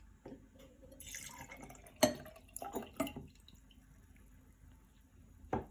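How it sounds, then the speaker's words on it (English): Semi-skimmed milk pours into a glass, a soft close trickle and splash with a few clinks of glass, fading out before one last small knock. "I'm just going to pour the milk into the glass"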